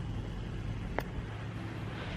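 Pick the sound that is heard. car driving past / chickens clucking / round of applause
car driving past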